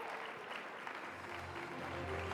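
Audience applause at an award ceremony honouring a collective prize, steady close clapping filling the room for a couple of seconds, with a faint tonal hum underneath.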